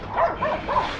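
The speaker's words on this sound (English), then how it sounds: "Got a quad pair of silky terriers, you said?" Several silky terriers barking in quick yips, close by and fairly loud, at a property where a 1965 Jeep with a Buick odd-fire Dauntless V6 is being revived after sitting 30 years.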